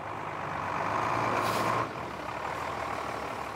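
A moving truck that has just crossed the Channel idles and rumbles steadily, with a brief louder tonal beep and air-brake hiss in the middle before settling back to a low engine drone.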